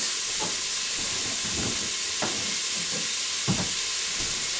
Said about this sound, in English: We're sauteing the onions while we move them around.